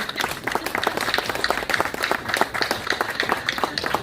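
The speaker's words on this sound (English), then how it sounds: "can we give a round of applause to the Parks and Rec staff that are out here every day?" People at a Laredo Parks and Recreation month proclamation event applaud the Parks and Rec staff, giving a lively round of clapping with distinct individual claps over a steady crowd wash.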